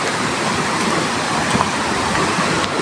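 A flowing river rushes in a steady, loud broadband wash, continuous and close, with faint occasional splashes and no voices.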